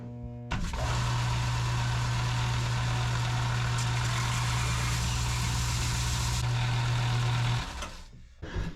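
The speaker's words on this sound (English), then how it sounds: "I've decided to put it on the stationary belt sander." A stationary belt sander starts up and whines steadily as a wooden shelf is pressed against the belt. The motor then spins down and stops, with no talk over it.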